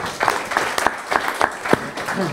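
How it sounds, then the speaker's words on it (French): A small audience at a startup pitch challenge gives scattered applause, with individual claps and voices breaking through in short bursts. "Vous pouvez l'applaudir."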